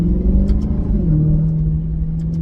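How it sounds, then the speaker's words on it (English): A Maserati GranTurismo S with a stage 1 remap rumbles loudly nearby through its exhaust as the engine revs and settles, deep and throaty, with a couple of faint clicks. "the exhaust definitely sounds louder"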